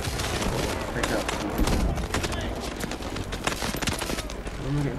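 Dense Call of Duty Advanced Warfare gunfire chatters continuously in rapid automatic bursts, loud and busy throughout, with a voice talking underneath.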